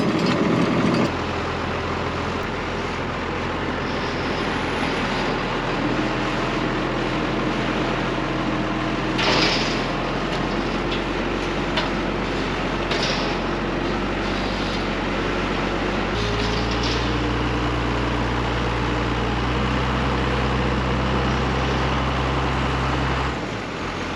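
A tractor engine running steadily while pulling the 830 out of a manure heap, a loud, low, even drone that holds for the whole stretch with slight shifts in pitch.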